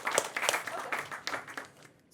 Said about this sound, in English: Ladies and gentlemen, please give a round of applause for one of our audience members.